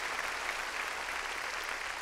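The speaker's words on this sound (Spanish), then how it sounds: "Démosle palmas fuertes a nuestro Señor." A church congregation applauds in an even, sustained patter of many hands, steady and fairly faint, with no voices on top.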